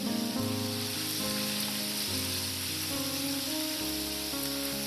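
Chicken sizzles and fries in olive oil in a pan, a steady crackling hiss under background music.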